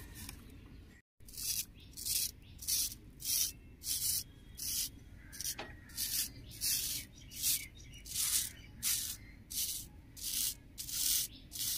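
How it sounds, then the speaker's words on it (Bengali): Dry leaves swept across a yard with a broom in a cartoon, a steady series of rhythmic scratchy strokes about one per second, close and fairly soft, with faint birds in the background. "চলো ভালো করে ঝাড়ু দিই আগে"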